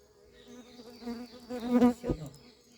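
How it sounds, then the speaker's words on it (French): Bees buzz close by, a wavering hum that swells and fades as they move around, loudest near the end before dropping away. "Quand on voit des abeilles aussi pacifiques, on a envie de s'approcher"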